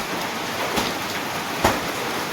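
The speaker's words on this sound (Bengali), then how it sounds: "এই যে বৃষ্টিটা বেশ ভালোই জোর হচ্ছে" Heavy rain pours down in a steady, dense hiss that fills the whole clip, with a couple of brief, louder splashes or thumps rising above it.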